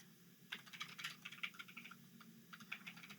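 Quick, uneven bursts of keystrokes on a computer keyboard clatter close by, fairly quiet against a low hum, with short pauses between runs of typing.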